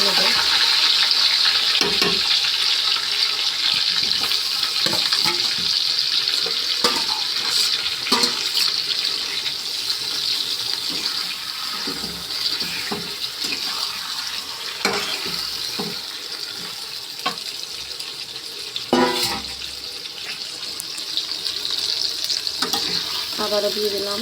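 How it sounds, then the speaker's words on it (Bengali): Meat pieces frying in hot oil in a pan, a loud, dense sizzle running throughout, broken by scraping stirs and clatter, with no talk. "এবারে দিয়ে দিচ্ছি মাংসগুলো ভেজে নেব।"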